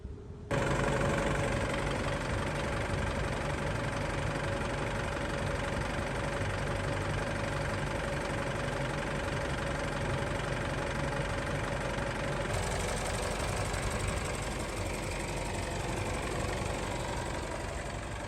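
A 2015 Isuzu D-Max with a 2.5-litre turbo diesel engine idles steadily and close by, a continuous loud rumble with no talk over it, and a slight change in tone partway through.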